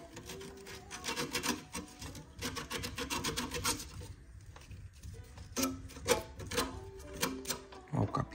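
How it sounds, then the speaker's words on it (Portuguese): Sandpaper rubs over the copper capillary tube of a refrigerator during a compressor replacement, making rapid, close, scratchy strokes in uneven bursts that run through the whole stretch with brief pauses. "limpar bem com a lixa"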